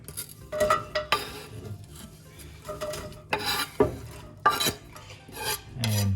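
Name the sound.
onion sauteing in a pot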